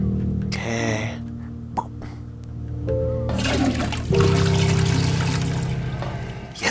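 A toilet flushes in the video game Estranged: The Departure with ducks nearby, a sudden loud rushing gush of water that follows quieter trickling and small noises and then drains away steadily.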